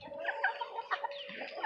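Chickens, including a full-grown crested Polish bantam hen and a Colombian wyandotte, cluck close by in a quick series of short, uneven calls with no talking.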